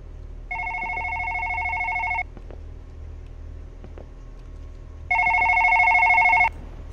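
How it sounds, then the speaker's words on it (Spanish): A telephone rings in the horror video game One Late Night: two bursts of electronic trilling ringing separated by a few quiet seconds, clear over a faint low background hum. "suena un teléfono. Creo que es del lado de mi oficina."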